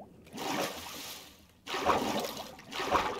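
Water flowing in the Minecraft game, a soft trickling wash that swells, fades briefly, then returns in two more surges, fairly quiet throughout.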